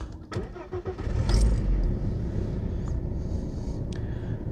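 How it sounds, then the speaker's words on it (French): A VW Passat VR5 Syncro's 150 hp V five-cylinder engine cranks and catches, settling into a steady, fairly quiet idle after a brief burst of starter noise and a few light clicks. "on va la démarrer et puis je vais te montrer un tout petit peu le moteur quand même. Bon tu vas voir le bruit du VR5, donc 5 cylindres"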